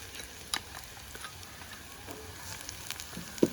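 Garlic and green chillies frying with onions in a pan: a steady soft sizzle with a few sharper crackles and spoon clinks, close and fairly quiet.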